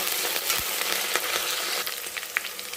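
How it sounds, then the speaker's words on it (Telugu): Onions with a sprig of curry leaves frying in a pan for a cabbage and chana dal curry, a loud steady sizzle with scattered scrapes and taps of stirring throughout. "మనం తీసుకున్న ఒక రెమ్మ కరివేపాకు కూడా వేసుకొని ఇలా కలుపుకోవాలి"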